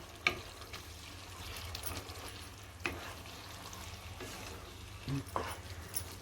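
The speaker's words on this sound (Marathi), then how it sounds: "थोडी परतून घ्यायची आहे आटू द्यायचं नाही एकदम" Prawns cooking in a thick gravy in a pan, a soft steady sizzle with occasional utensil scrapes and knocks as the mixture is stirred, fairly quiet and close.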